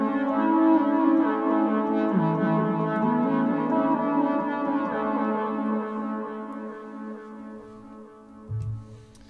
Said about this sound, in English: the feedback is pretty high, the wet level is pretty high, so it's a pretty strong effect.